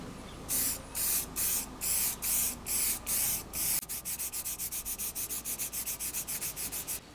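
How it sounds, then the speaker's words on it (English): Rhythmic bursts of a color restorer spray nozzle on faded Alcantara upholstery in a 20-year-old BMW 7-Series, close and hissing, first in slower pumps, then in quicker, shorter spritzes. "I'm using the Sweet and Nubuck Color Restorer Spray, made specifically for reviving faded materials like Alcantara."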